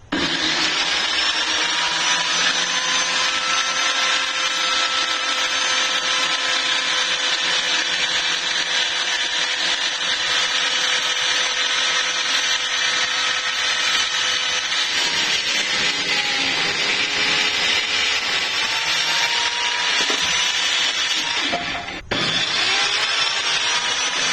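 A power saw cuts 2x4 lumber for a building a picnic table, a loud, steady buzzing rasp running almost continuously with a brief break near the end before cutting resumes.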